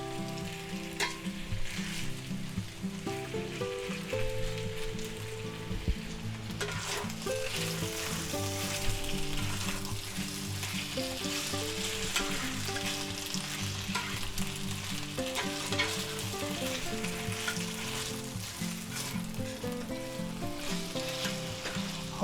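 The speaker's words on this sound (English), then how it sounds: "Alright, now we're going to quickly stir fry this" Pheasant and quail pieces stir-frying in a hot pan, a steady bright sizzle running throughout with periodic scrapes and tosses, under continuous background music and no talk.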